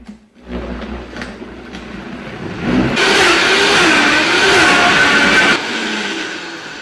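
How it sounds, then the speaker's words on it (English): A blender roars as it grinds frozen apple halves with greens for a green smoothie, starting with a lower labouring whir, then rising to a loud, strained, steady whine for a few seconds before easing back down, with no speech. "it's going to get a little bit loud when I turn this on because my blender is going to struggle"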